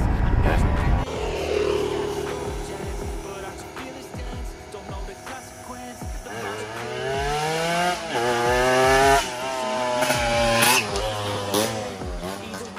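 A Yamaha MX King two-stroke motorcycle engine runs up close, revving loudly with a buzzing, rising and falling pitch as the throttle is blipped and held.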